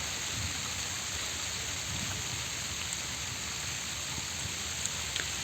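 Rain falls steadily over village crop fields in the monsoon, a dense, even hiss of drops that stays constant and fairly quiet with no voices.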